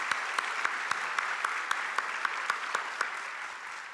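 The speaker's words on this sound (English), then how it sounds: "We can clap," Scattered audience clapping at a high school academic awards ceremony, a moderate, steady patter of hands with some sharper individual claps, fading slightly near the end.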